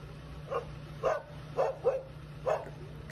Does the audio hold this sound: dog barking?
yes